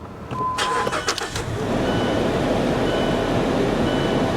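A 1962 Mercedes 190 engine cranks briefly with a few clattering turns, then catches and settles into a steady, close idle.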